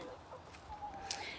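Hens cluck softly inside an 8 by 6 by 8 foot backyard chicken coop, a faint murmur of low calls with one brief sharper squawk near the end, no talking.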